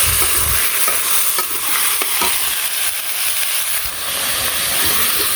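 Potatoes, eggplant, drumsticks and mixed vegetables fry with onion in a pan in a Bangladeshi village kitchen, a loud continuous sizzle broken by repeated scraping stirs.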